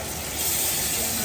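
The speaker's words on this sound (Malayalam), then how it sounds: "മീൻ ഇടുമ്പോൾ ഉള്ള എണ്ണയുടെ സൗണ്ട് അല്ലേ" Fish dropped into hot oil, a steady broadband sizzle and hiss that swells slightly after the first half second and holds for over a second, close and fairly loud.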